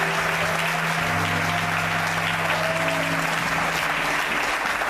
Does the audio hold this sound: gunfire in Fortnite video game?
no